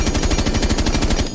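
Rapid automatic gunfire from a weapon in Rainbow Six Siege, a steady burst of evenly spaced loud shots lasting the whole stretch with no pauses and no voices.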